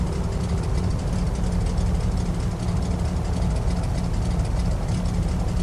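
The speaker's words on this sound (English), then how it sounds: "So we are taxiing a bit fast, but this thing taxis, you look at it and it wants to go." A light general-aviation aircraft's engine in Microsoft Flight Simulator runs steadily while taxiing on the ground, a continuous low droning rumble with a faint knocking texture, even and close throughout with no talk.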